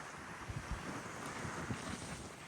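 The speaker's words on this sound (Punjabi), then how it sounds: "ਦੇਖੋ ਬਾਬੇ ਵਾਹ ਜੀ ਵਾਹ ਕਿੰਨੀ ਤੇਜ਼ ਹਵਾ ਵੀ" Strong wind gusting at a highway rest area beside the I-29, a steady broadband roar with buffeting gusts close on the microphone, no voices.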